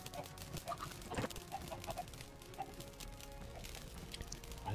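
Chickens in the video game Minecraft cluck in short scattered bursts amid a busy wash of game noise, fairly faint and irregular.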